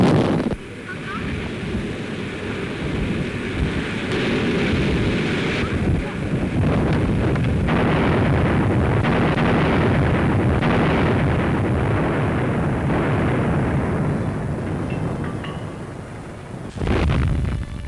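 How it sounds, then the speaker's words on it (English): Depth charges go off at sea in a 1940 wartime film about convoy escorts and U-boats. Dull, rumbling blasts roll through broad surging noise like churning water and wind, swelling and fading over a long stretch. "As the shudder of explosions comes nearer and nearer"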